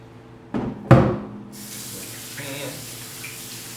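Water runs from the tap into a kitchen sink during a chicken casserole prep, starting after a couple of knocks and rushing steadily at moderate level with no talk.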